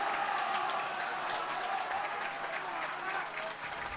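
A football crowd at an FA Cup third-round match between Macclesfield and Crystal Palace keeps up steady, distant applause and general stadium noise, with no clear voices on top.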